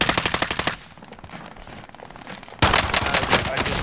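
Rapid automatic gunfire in Call of Duty: Modern Warfare, a loud burst of close rattling shots that drops to a quieter stretch of distant fire, then returns in a dense, heavy volley.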